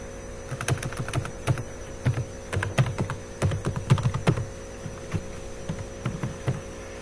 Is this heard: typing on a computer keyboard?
yes